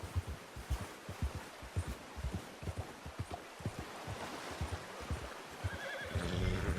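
A horse in the video game Red Dead Redemption 2 clops its hooves in a steady rhythm and a whinny rises near the end, over a soft rustling background.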